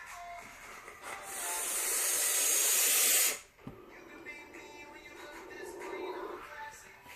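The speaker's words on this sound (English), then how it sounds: "Let's have another vape." A Coilart Mage mech mod with an RDA is vaped close by: after soft fiddling noises, a loud airy hiss builds for about two seconds and cuts off sharply, followed by quieter exhaled breath.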